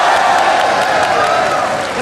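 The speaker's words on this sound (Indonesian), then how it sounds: "Gua pengen tepuk tangan buat Semarang." Studio audience applauding and cheering on an Indonesian television talk show, a dense, loud wash of claps and crowd noise filling the whole stretch without a break.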